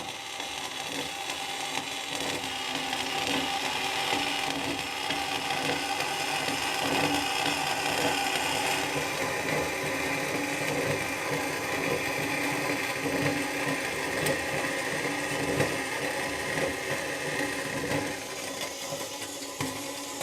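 A saw on a mill cuts a part from aluminum tooling plate, a steady, loud mechanical whine and grind that runs without a break for the whole stretch, with faint rhythmic chatter underneath.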